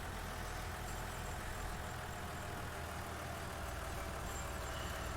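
A tractor engine idles in Farming Simulator 19, with an 8340 model on offer, giving a low, steady, faint rumble that runs unbroken throughout.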